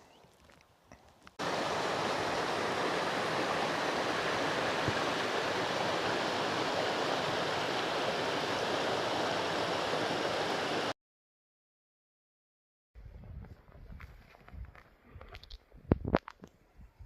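Strontian river rushes in a steady, loud broadband wash for several seconds, then cuts to silence before fainter, uneven outdoor rustle and thumps return.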